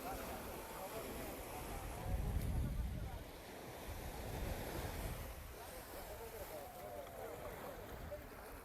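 Ocean surf on a beach near Karachi, a broad continuous wash of breaking waves with a swell around the middle, mixed with wind buffeting the microphone.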